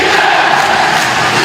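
Home crowd at a Philippine NBL finals basketball game roaring loudly and continuously, a dense wall of cheering and chanting from the stands.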